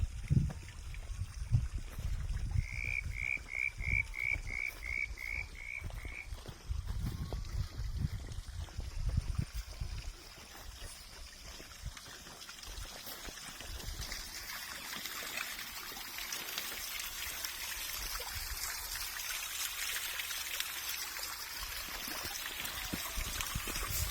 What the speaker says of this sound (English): In the background you can see the waterfall that I constructed about 4 years ago.